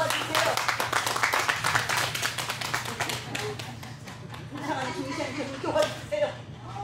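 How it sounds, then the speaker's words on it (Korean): An audience claps at a Korean pumba street-style music and magic performance, a rapid burst of hand claps that thins out midway, with voices talking over the later part. "박수 한번 보내주시기 바랍니다."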